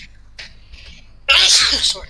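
A single loud, sharp sneeze bursts out close to the microphone after a few quiet breathy sounds, and a person speaks briefly.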